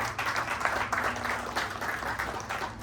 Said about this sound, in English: A big round of applause for congregation.